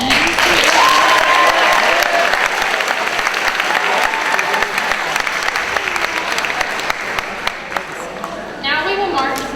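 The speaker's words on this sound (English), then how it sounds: "please give a round of applause to Jack Dietrich for running the sound and lights today" Sustained applause from a large audience at a high school class day ceremony, honoring the student who ran sound and lights; dense steady clapping throughout with some crowd noise, fading slightly near the end.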